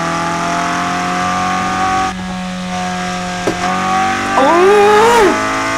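A Peugeot 106 GTI engine in a driving video game drones steadily while weaving through traffic, then revs up with rising, sweeping pitch toward the end. The sound is loud and close, with no talking.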